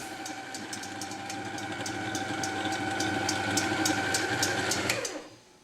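An electric mixer whirs steadily while beating egg whites and caramel for a saffron and lemon semifreddo, a constant motor hum with a rhythmic ticking that gradually rises before cutting off abruptly near the end.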